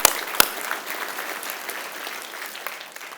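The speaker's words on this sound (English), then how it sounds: "let's give a round of applause." Applause breaking out at an annual chamber dinner, a roomful of hands clapping steadily for about three seconds after two sharp opening claps.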